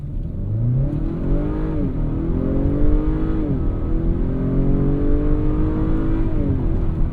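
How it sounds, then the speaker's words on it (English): 2024 Acura RDX with super handling all-wheel drive launching hard from a standstill, engine revving up through several quick gear shifts, rising and dropping in pitch, loud and close from inside. "Now we're about to see what the super handling all-wheel drive can do from a standstill. And then we're just gonna take off."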